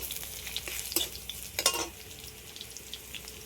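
Garlic lightly fries in a pan while being stirred, giving a soft, close sizzle with a few brief scraping bursts.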